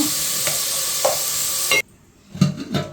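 Onions fry loudly in a pan while a utensil stirs them, with a bright sizzle and scraping strokes that stop abruptly, then a few clanks and stirring sounds follow over a fainter sizzle.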